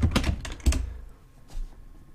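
Quick bursts of typing on a computer keyboard, a cluster of close, crisp key clicks followed by a short pause and a few more taps, with no voice over them.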